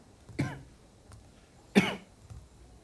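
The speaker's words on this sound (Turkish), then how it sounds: "Öksür kardeşim, öksür." A man coughs on request during a medical check, giving two separate harsh coughs, close by, with a quiet pause between them.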